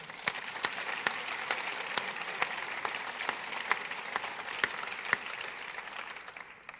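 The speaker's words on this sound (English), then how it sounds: "So a big applause already for her." Applause from an audience in a church at an academic anniversary ceremony, a steady even wash of clapping with a few sharper claps standing out, moderately distant and fading near the end.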